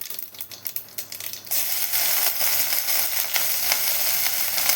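Crushed ginger, green chilli and garlic hit hot oil for matar kadhi: a quiet start, then a sudden loud sizzle that stays steady and crackling to the end, with no voices.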